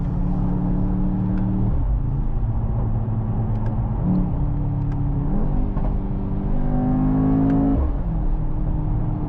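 Mercedes-AMG GT 63 S E Performance hybrid V8 revving hard at full throttle from inside the car, a loud continuous engine roar with rising and falling pitch sweeps as it pulls through the gears.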